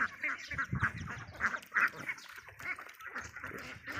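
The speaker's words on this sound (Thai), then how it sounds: "เป็ดไทยสายพันธุ์นางเดิน" Thai Nang Dern breed ducks quack in a flock, a chorus of nasal, overlapping calls at moderate distance, coming in irregular bursts with brief quieter gaps.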